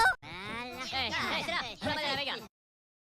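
A cartoon goose honks in a loud, nasal, voice-like series of wavering calls, close up, ending abruptly into silence; the honks sound like a performer's voice imitating a goose.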